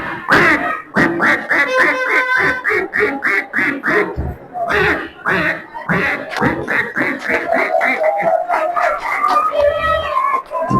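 A man imitates a native duck quacking on water, voicing a long run of rapid rhythmic quacks in several bursts, loud and close, with no other sounds.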